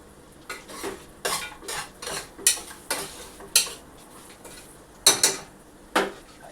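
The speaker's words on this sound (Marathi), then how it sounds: "टाकतो या ठिकाणी वाटाणे," Peas tipped into hot tempering in a pan and stirred with a metal spoon, giving a run of sharp, irregular clinks and scrapes against the pan, close and fairly loud.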